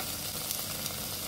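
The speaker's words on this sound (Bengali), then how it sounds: "একই তেলে অ্যাড করে দিচ্ছি চিংড়ি আর টমেটো।" Shrimp and tomato fry in hot oil in a pan, making a steady, close hiss and crackle that carries on evenly with no talking.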